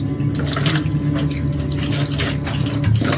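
Water from a shower head runs steadily into a scalp spa sink, a continuous broadband splashing and hiss that stays loud and even throughout, with no voices.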